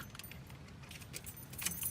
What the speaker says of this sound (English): take the keys,